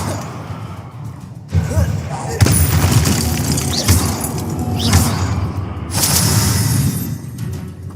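Incendio fire spell cast in Hogwarts Legacy, a series of booming fiery bursts and whooshes with crashing impacts, loud and close, under a voice speaking over the game.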